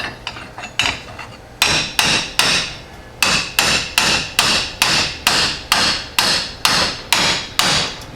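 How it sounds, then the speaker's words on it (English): Steady hammer blows ring on a metal support wing of a Jeep heavy-duty shackle kit, about two per second, loud and close, each strike sharp with a short ringing decay. "For this case, I'm actually just going to use a hammer."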